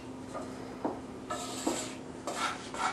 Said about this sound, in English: I'm just going to add our vegetables and add our sausage into this bowl